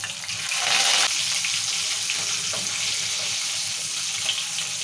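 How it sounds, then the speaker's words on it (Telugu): Peanuts, green chilies and curry leaves hit hot oil, a loud hissing sizzle that swells early, then settles into a steady spatter. "ఇప్పుడు మిరపకాయలు వేసుకుందాము పచ్చిమిరపకాయలు కరేమాకు కూడా వేసుకుందాం"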